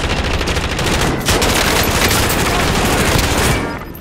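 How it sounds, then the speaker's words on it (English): Gunfire in a Warzone match on Rebirth Island, with sustained rapid automatic bursts crackling nonstop for about four seconds, loud and close, then fading slightly at the end. "Where those shots coming from?"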